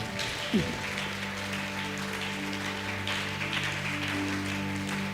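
Church congregation acclaiming and applauding during a bilingual French and Swahili sermon, sustained clapping and cheering voices over a droning tonal background.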